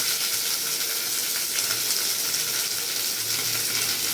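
Curry leaves with chopped onion and garlic fry in hot oil, a dense, even hiss and sizzle heard close up with no pauses.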